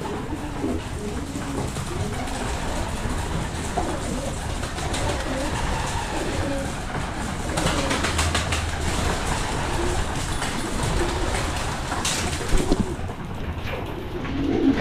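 A flock of pigeons feeds on pellets, with continuous close cooing and rustling over a constant background rumble and no talking.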